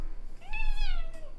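A cat gives a single clear, drawn-out meow, close and distinct over a low background hum.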